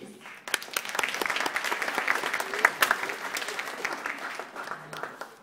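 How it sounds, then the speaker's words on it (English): An audience gives a round of applause at a youth event opening, with steady clapping from a crowd that builds quickly and holds throughout, fairly loud and close. "Let's give these young people a round of applause, please."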